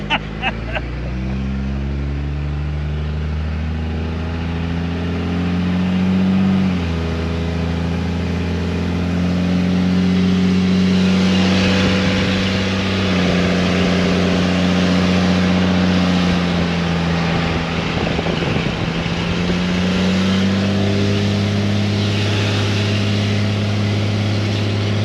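A Cummins diesel swapped into a Chevrolet C30 truck runs loud and steady, with its pitch rising and falling through several revs over the whole stretch, heard up close and droning throughout.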